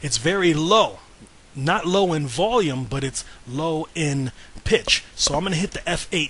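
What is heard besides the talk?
None of the usual background noises is heard.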